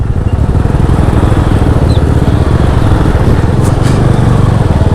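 Motorcycles crawl one behind another through deep mud on the mountain road to Badrinath, a loud, steady engine drone running close the whole time.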